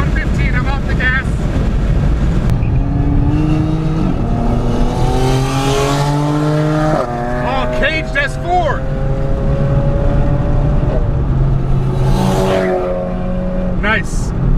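A VW CC R-Line sedan driving hard on a race track, its engine droning loudly and steadily as revs climb through several gear pulls, with a person talking over the engine noise throughout.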